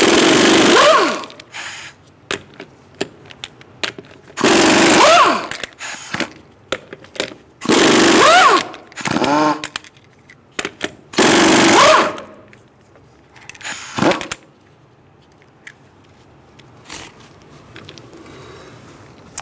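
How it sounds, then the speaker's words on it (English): A power tool with a socket takes lug nuts off the rear wheel of a Subaru Forester, firing in several loud, close bursts of a few seconds each, separated by quieter gaps with faint clinks. "I'm going to use a 19mm socket to take the lug nuts off the rear wheel"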